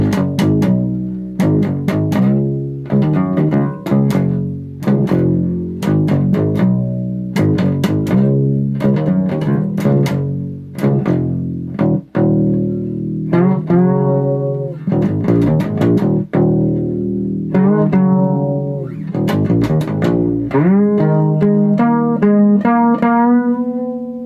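A 1987 Kramer Ferrington fretless acoustic-electric bass with an active preamp, played through a guitar amplifier at moderate volume: a steady run of plucked notes with smooth gliding pitch and warm sustained tones, loud and alone.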